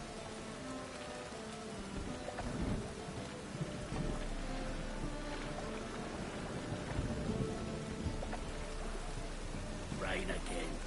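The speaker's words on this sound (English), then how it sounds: "Rain again." Steady rain falling in The Witcher 3 video game, a constant hiss of drops on surfaces with faint distant rumbles, heard at moderate level under occasional talk.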